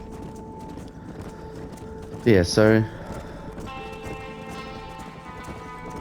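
Cattle herd running in the Red Dead Redemption video game, soft hoofbeats under someone talking, with a brief loud animal bellow in the middle and a steady background tone.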